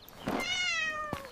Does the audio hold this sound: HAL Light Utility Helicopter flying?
no